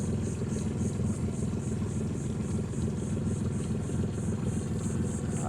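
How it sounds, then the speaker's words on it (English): An old commercial fishing work boat's engine runs loud and steady, a continuous deep rumble with a throbbing idle-like pulse and a faint rhythmic whine riding above it, with no voices. "This right here, the Sunrise, that's a work boat. That thing's loud."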